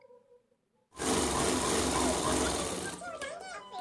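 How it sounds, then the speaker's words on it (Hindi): A sewing machine stitches along a folded cloth strip for a small doll dress, starting abruptly after near silence and running as a loud, continuous rapid whir before slowing near the end. "इस कपड़े को इसमें फोल्ड करेंगे, अस्तर नहीं लगाएंगे इसी कपड़े में और हम सिलाई कर देंगे।"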